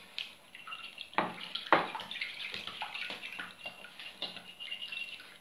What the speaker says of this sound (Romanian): Amestecăm puțin și am să adaug și puțină apă.